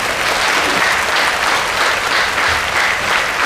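An indoor audience claps continuously and loudly at a sixth-anniversary and rank-achiever celebration in Jalna. The applause is dense and even, with no voices on top.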